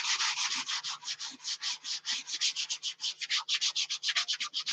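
Sandpaper rubbing over a blocker coat in rapid, steady back-and-forth strokes, a close, loud raspy swishing that repeats about six times a second with no talking.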